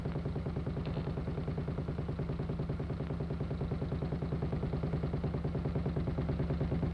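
A 1942 military motorcycle engine runs properly at a steady idle, its even, rapid exhaust pulses continuous and fairly quiet throughout.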